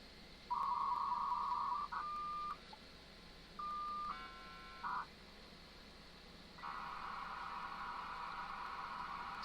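A dial-up modem dials out through a Cisco SPA112 adapter, with a string of clear DTMF tone bursts and pauses between them, then a steady tone that holds to the end over a faint hiss.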